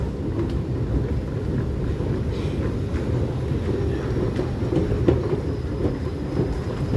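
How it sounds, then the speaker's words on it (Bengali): An underground metro train pulls out of a Singapore station, a steady low rumble and roar that fills the platform and stays close and continuous throughout. "ট্রেন চলে গেল, ট্রেন চলে গেল"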